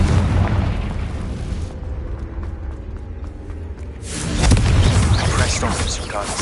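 Confringo spell explosions in the Hogwarts Legacy video game: loud, booming blasts with crackling debris, a rumbling burst at the start, a quieter stretch, then a heavier second eruption near four seconds that rolls on to the end.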